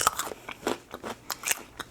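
Someone bites and chews a fresh, unwashed local raw carrot, giving a series of sharp, crisp crunches close to the mic in an irregular rhythm, with no talking.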